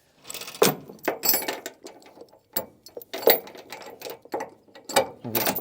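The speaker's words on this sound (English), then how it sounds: "So I just hooked the chain through the axle the same way as on the other side." A metal tie-down chain is hooked through an equipment axle on a trailer, giving close, sharp clinks and rattles in uneven bursts separated by short quiet gaps.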